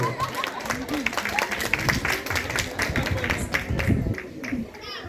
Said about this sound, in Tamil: ஜோஸ்பின் அக்காக்கு கரகோஷத்தை எழுப்புங்க